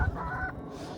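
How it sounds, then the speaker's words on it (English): A chicken clucks close by on a snowy farm, a few short low calls at the start, then quiet outdoor air. "There's a chicken out."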